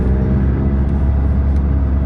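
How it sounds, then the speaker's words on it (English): McLaren 675LT engine heard from inside the cabin, a steady loud drone that holds level with no clear rise or drop, no voices over it. "It sounds good and it revs the car."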